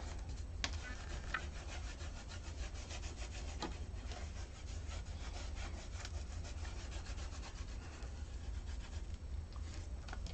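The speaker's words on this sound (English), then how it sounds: "just continue to burnish it with your finger if you'd like." A fingertip burnishing gilding flakes onto a surface makes a steady, close, dry rubbing and scraping with rhythmic strokes, continuous and fairly quiet, with no talk.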